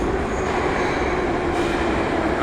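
A metro train pulls into an elevated station, a loud steady rumble of wheels and carriages that fills the whole moment without letting up, close by and with no voices.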